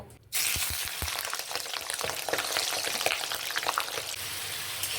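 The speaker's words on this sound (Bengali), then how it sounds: "আমার চিকেনটা ভাজা ভাজা একটু হালকা ভাজা ভাজা হয়ে গেছে" Chicken pieces fry in hot mustard oil in a kadai, a steady loud sizzle starting abruptly after a brief quiet moment and crackling on with scattered spits and pops, no voices.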